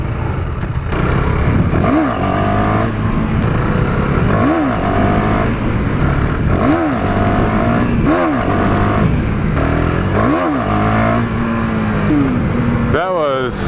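A KTM 390 Duke motorcycle engine revs repeatedly in rising and falling bursts, about five sharp throttle blips at close range, over a constant engine drone.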